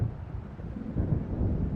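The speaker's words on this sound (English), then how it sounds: "It seems there's a storm coming." Low rolling thunder from an approaching storm in the video game Alan Wake, a deep rumble that swells slightly partway through, with no voices.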